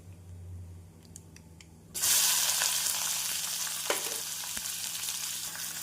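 After a quiet moment, chopped onions, green chillies and garlic hit hot oil with a sudden loud sizzle that keeps hissing steadily.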